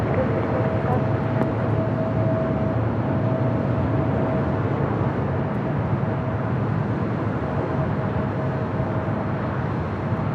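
A Viva jet taking off from LAX runway 25 right: a steady, broad engine roar fills the whole stretch, constant and fairly loud, with a faint tonal whine running underneath.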